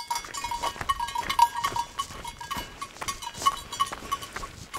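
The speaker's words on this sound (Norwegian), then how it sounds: "Hvor er de sauene?" Several goats or sheep bleat repeatedly at a mountain hut farm, the calls fairly close and mixed with light outdoor background noise.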